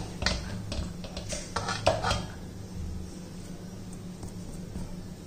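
Ragi dough scraped from a pan and moved into a bowl, with a few clattering scrapes of a utensil against metal early on, then quieter faint handling noise.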